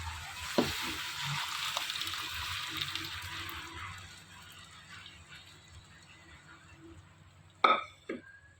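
Sprouted pigeon peas hit hot masala oil in a pan, giving a soft frying sizzle that fades over several seconds, followed near the end by a couple of sharp clattering knocks.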